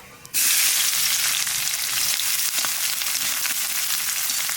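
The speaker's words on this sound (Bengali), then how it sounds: "রসুন একটু বাজিয়ে নিয়েছি" Crushed garlic and black cumin dropped into hot oil burst into a loud, steady sizzle that starts abruptly and holds a dense, close frying hiss to the end.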